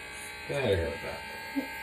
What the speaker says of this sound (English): I'm just trying to make it easier on the clippers.